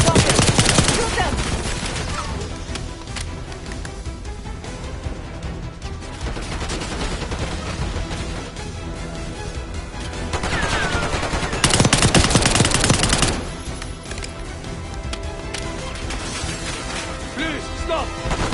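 Rapid gunfire from Call of Duty: Black Ops 6, with sustained automatic bursts that swell loudest in the middle, dense and continuous beneath game voices that speak over the shooting.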